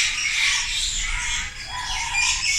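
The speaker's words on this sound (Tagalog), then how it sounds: "Ang ingay. Ito yung Blue Day Parrot." A noisy blue parrot at Avilon Zoo, an endangered species, calls loudly and continuously with harsh, squawking cries that fill the whole stretch, close and alone without talk.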